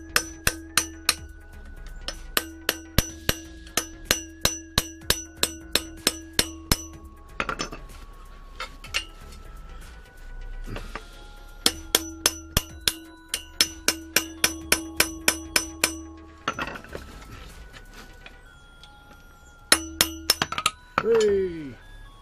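Sharp metallic taps from a small toffee hammer striking a Ford Transit propshaft bearing during replacement, coming in rapid bursts of a dozen or so ringing clinks, separated by short pauses and quieter handling noise.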